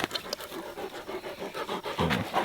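Several dogs pant rapidly and rhythmically close by in hot weather, a continuous breathy huffing with a few louder bursts and no talking.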